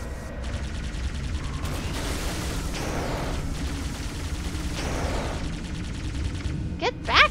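Gunfire in the video game Halo 2, with rapid shots fired continuously across the whole stretch, layered with game effects and a couple of sharp whooshing sweeps near the end.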